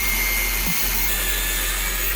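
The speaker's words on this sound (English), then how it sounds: "with an angle grinder, we will cut away all of those fang-shaped iron pieces" An angle grinder cutting fang-shaped iron pieces off an alternator rotor mounted in a precision lathe, giving a loud, steady, unbroken whine with a single brief dip.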